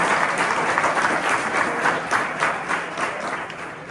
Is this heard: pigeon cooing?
no